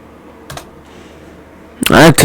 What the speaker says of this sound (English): I like to type fast